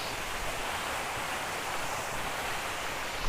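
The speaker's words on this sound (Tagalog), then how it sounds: "So ito na yung pinakalas na waterfalls." The lowest drop of Maticdum Busay Falls in Tandag City, Surigao del Sur, Philippines, gives a constant broad roar of rushing water, steady and fairly distant, with no voices.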